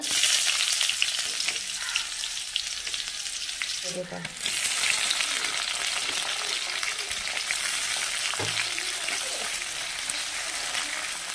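Whole garam masala spices sizzle in hot oil with onions in a pan, a steady loud frying hiss running throughout, broken by a couple of brief stirring clanks.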